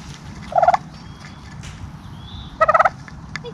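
A turkey in a goat pen gives two loud, close gobbles, each a quick rattling burst, spaced about two seconds apart over steady low background noise.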